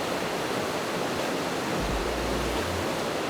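A violent glacial river rushes on the Everest Base Camp trek, a dense, steady roar of churning water filling the air with no voices over it.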